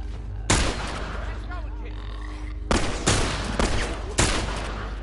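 Rifle gunfire in the video game The Last of Us: four loud, sharp shots spaced out over a few seconds, each with a broad crack and decaying tail, over continuous game ambience.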